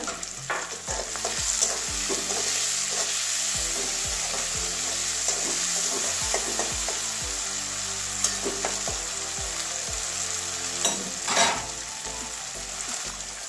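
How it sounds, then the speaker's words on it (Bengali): Onions frying with salt in a pan, a steady loud sizzle with repeated scraping strokes of a spatula stirring throughout. "পেঁয়াজটা ভাজা হয়ে গেছে"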